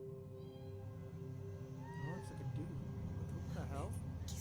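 A cat meows several times in a quiet room at moderate distance, drawn-out wavering calls, with a low steady hum throughout and a voice speaking over part of it.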